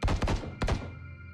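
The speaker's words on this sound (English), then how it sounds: "Did you just hear gunshots?" Gunshots in a horror adventure video game, three close, sharp heavy reports: two quick shots, then a third after a short pause, with a brief decaying tail.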